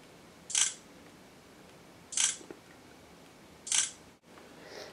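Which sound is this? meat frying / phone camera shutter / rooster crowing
phone camera shutter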